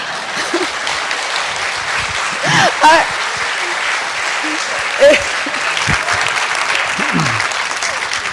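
An audience applauds Aung San Suu Kyi at an Asia Society Policy Institute event, a steady wash of clapping from a sizable crowd with a few voices and brief louder bursts poking through.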